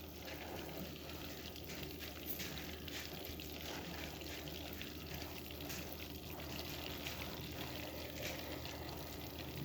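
Butter browning in a pan bubbles and sizzles in a dense, steady crackle, close and continuous, with no talking.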